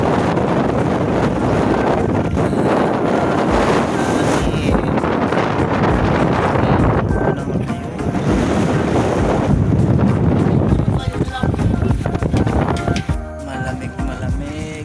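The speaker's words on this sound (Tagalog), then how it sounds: "paalis na yung ferry boat papuntang Dumaguete" A ferry boat leaving port for Dumaguete, heard as a steady loud rumble of engine and water, with heavy wind buffeting the microphone throughout and a brief dip in the roar near the end.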